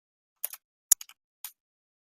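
Keys on a computer keyboard click a few times in separate sharp bursts, close and crisp, against silence.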